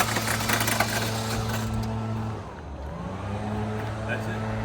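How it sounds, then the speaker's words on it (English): A 2016 GMC Terrain with a jump box hooked up cranks but fails to start, the engine sound steady and fairly loud before a brief dip and resuming. "you can hear with the jump box hooked up, would not start up"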